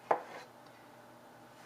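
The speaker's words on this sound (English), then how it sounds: "I'm going to go ahead and cut them up" A knife cuts through peeled beets on a cutting board, making two faint, separate chopping knocks more than a second apart in an otherwise quiet kitchen.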